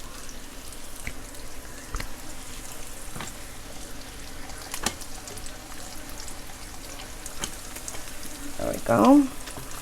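Tortillas fry in leftover meat grease on a comal for tacos al pastor, giving a steady, soft sizzle throughout; a voice speaks briefly near the end.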